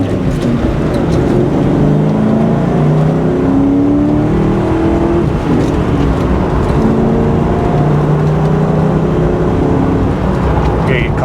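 A 1997 Ford Mustang Cobra V8 idles and rumbles loudly up close as it makes a slow U-turn on gravel, with the engine note rising and falling under light throttle and tyres crunching faintly.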